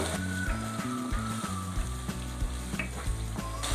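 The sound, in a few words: tomato paste frying in a pan for chicken curry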